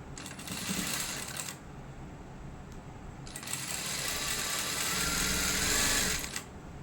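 A sewing machine stitches the frills of a three-layer dress with a loud, steady mechanical whir in two long bursts, separated by a quieter pause.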